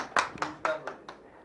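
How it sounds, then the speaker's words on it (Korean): A few separate hand claps, about five, spaced unevenly in a small room as a lecture host calls for applause for an arriving chairman; sparse and moderately close with no voices. "회장님 오셨으니까 좀 박수."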